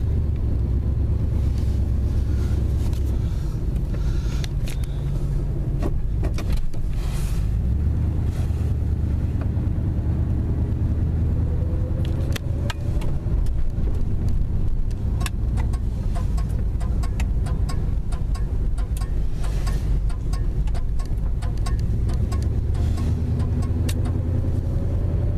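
Engine and road noise of a 1974 Plymouth Valiant driving on its first outing in ten years, a steady low rumble with rising revs, wind buffeting the microphone and occasional bumps, continuous and close throughout.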